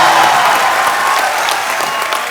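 A TV comedy show studio audience applauds loudly as a ghazal singer guest is welcomed to the stage, a thick, continuous wash of clapping that holds strong throughout and eases off only slightly at the end.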